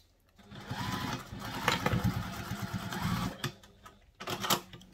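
A sewing machine top-stitching a sling bag runs in a steady mechanical whir for about three seconds, stops, then gives a couple of short bursts, close and clear.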